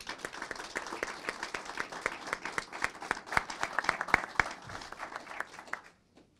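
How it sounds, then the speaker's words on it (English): Group of people clapping for Building and Safety staff at a city council meeting, a dense, steady round of applause with sharp individual claps standing out, carrying on for several seconds before cutting off abruptly. "if we could give them a round of applause."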